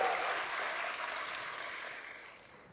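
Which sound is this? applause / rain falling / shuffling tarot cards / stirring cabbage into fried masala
applause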